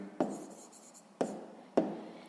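Handwriting numbers during a sixth-grade maths exercise, three short separate strokes or taps of pen on paper, quiet and close, with faint scratching between them.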